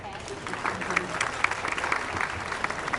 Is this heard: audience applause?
yes